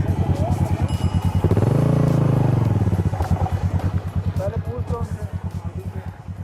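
Motorcycle on a bike tour through Sharan Forest in the Kaghan Valley, its engine idling close by with a steady pulsing thump and a brief rise in revs while it is parked; voices talk over it.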